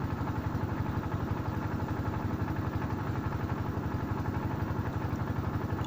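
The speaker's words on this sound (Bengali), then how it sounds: "আমাদের ট্রলার ধীরে ধীরে চলছিল" A motor boat (trawler) engine chugs at a steady, low throb while moving slowly on Lalakhal, Sylhet, its rapid rhythmic pulses unchanging and close by.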